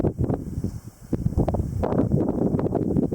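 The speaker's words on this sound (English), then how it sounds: "It's windy, which is keeping it just slightly on the coolerish side." Wind gusts across a dry lake desert range at the edge of Las Vegas, buffeting the microphone in uneven rushing bursts and rustling nearby brush, with no voices.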